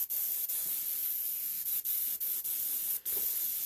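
An airbrush sprays fabric paint in a studio, a continuous close hiss broken by several brief pauses as the trigger is released and pressed again.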